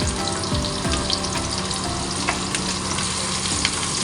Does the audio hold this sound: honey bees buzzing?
no